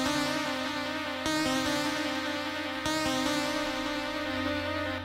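A simple synth from Massive in a dubstep track made in Ableton holds steady bright notes that change only occasionally, with heavy ping pong delay filling the background, quiet and playing alone.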